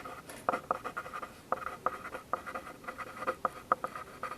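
An equation written by hand for a precalculus lesson on circles, a close series of quick scratchy pen or marker strokes in irregular short taps and drags, with no talking.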